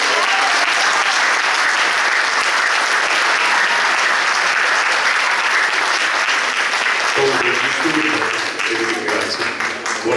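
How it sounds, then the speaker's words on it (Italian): Loud, dense audience applause fills a public evening event in Termoli marking 40 years of Difesa Grande, steady throughout, with a tonal sound rising beneath the clapping near the end. "se c'è una persona che merita forse un 3 secondi in più di applauso"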